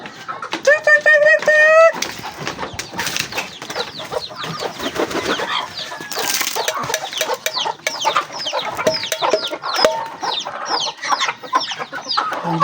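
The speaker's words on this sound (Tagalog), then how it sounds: "Yan ang mga pato natin." A noisy flock of ducks and other poultry calls close by, with repeated quacks and clucks layered together and a voice talking now and then.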